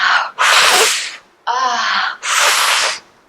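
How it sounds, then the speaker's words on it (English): Four deep, forceful breaths during breathwork, alternating sharp inhales and exhales, loud and close with short pauses between them. "Big deep breaths."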